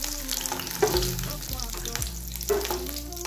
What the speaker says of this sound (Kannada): ಫ್ರೈ ಮಾಡಿಬಿಟ್ಟು ಕ್ಯಾಪ್ಸಿಕಮ್ನ ತೆಗೆದುಕೊಂಡ್ಬಿಡ್ಬೇಕು.